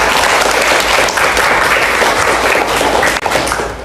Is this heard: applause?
yes